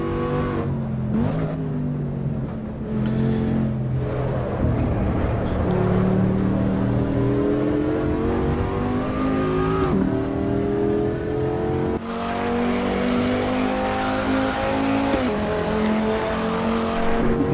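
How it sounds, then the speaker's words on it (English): Audi RS3 engine in the video game Assetto Corsa Evo, heard from the cockpit: a steady, loud five-cylinder drone that climbs and drops in pitch through gear changes, continuous and close throughout with no talking. "This is exactly how an RS3 sounds, guys. On the inside, anyway."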